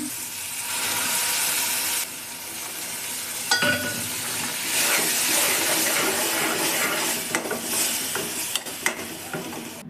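Dal poured into a hot chili tempering in a pan, setting off a loud, steady sizzle and hiss with bursts of spatter and a few sharp clinks of a stirring spoon, with no talk.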